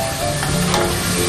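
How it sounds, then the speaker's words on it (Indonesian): Blended spice paste with candlenut sautéing in oil for orange-spiced chicken gives a steady, loud, close sizzle with no break. "ini kita tumis sampai dia wangi"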